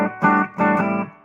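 Two short chords played through a Laney HC50R guitar amplifier on crunch setting 2 ring out, loud and close, with light distortion and a rich harmonic buzz, each cut off cleanly.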